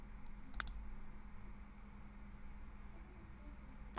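Computer mouse clicks from someone playing The Sims 3 come as a quick click pair near the start and another at the end, faint and close over steady electrical hum, with no speech.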